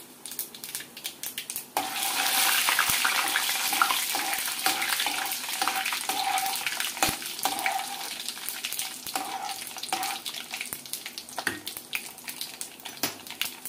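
Mustard seeds and chana and urad dal temper in hot oil for a mango pickle, a close, steady sizzle with crackling pops and occasional stirring taps.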